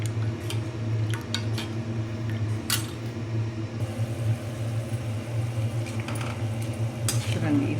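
Ragi flour mixed with plain water is stirred briskly in a pot for a ragi soup, a steady scraping swish with light clinks running throughout over a low background hum.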